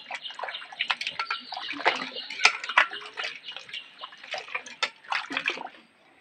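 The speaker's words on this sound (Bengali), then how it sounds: "তুমি ধোয়ার সময় তোমরা ভালো করে হাত দিয়ে এভাবে চটকিয়ে নেবে" Raw mangoes are washed by hand in water, with steady splashing, sloshing and squelching as they are rubbed and squeezed, close and continuous for several seconds before stopping.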